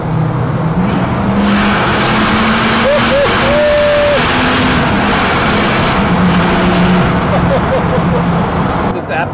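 A first generation Lamborghini Gallardo revving after a downshift, a loud close engine note that climbs and blips over steady road roar, with a voice talking over it.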